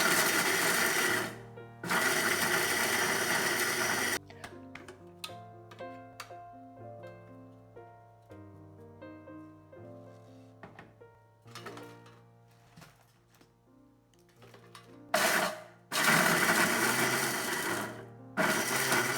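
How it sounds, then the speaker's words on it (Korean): Electric blender grinding dried red chili peppers with their stems cut off, mixed with about a cup of broth, for kimchi seasoning; a loud whirring burst that stops, piano music in between, then a second loud run. "꼭지를 자르고 믹서에 갈아서 사용하세요"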